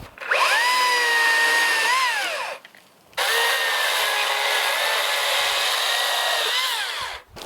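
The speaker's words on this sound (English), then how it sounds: "I'm going to trim up these branches" Two long bursts of a high whining power-saw cut through tree branches at a snowy winter campsite, close and loud, separated by a short pause.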